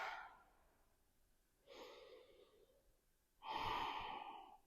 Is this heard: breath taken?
yes